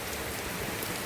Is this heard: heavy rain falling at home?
yes